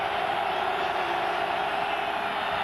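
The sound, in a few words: stadium crowd rising and cheering at a college football game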